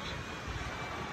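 A small DJI Neo drone hovers close by outdoors, its steady whirring rotor hum filling a brief moment with no talk.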